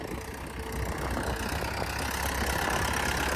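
A tractor engine idles steadily with a rough, continuous mid-to-low rumble that holds level throughout, with no one talking.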